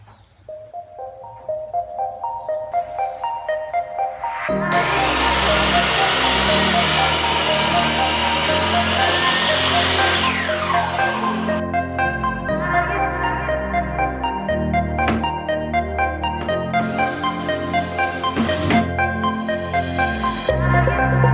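Power tools cut and work wood while someone builds a wooden skate box. After a quieter start, a loud, continuous whine of sawing and grinding runs for most of the stretch, with some tonal background sound underneath.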